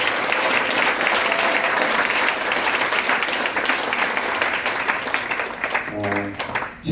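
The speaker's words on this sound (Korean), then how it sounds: "우리 큰 박수 한번 부탁드립니다." Loud, continuous applause from a church or rally audience, dense clapping sustained for several seconds before thinning out, with a voice starting to speak as it fades.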